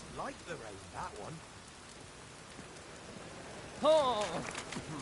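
Rain falls in The Witcher 3: Wild Hunt as a steady soft patter and hiss under faint background talk, with a louder burst near the end.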